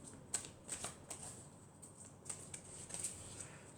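A deck of oracle cards is cut and shuffled close by, giving quiet, crisp card flicks and snaps scattered over a few seconds with no voice.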